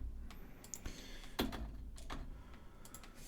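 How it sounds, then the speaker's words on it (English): Quiet, scattered clicks of keys tapped on a computer keyboard while JavaScript is typed, coming in loose irregular bursts with one sharper keystroke partway through. "Now I can start typing some JavaScript"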